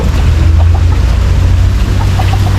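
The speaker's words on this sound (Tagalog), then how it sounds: "Mga manok oh." Rhode Island hens cluck in short, scattered calls over a steady low rumble at an egg-laying coop.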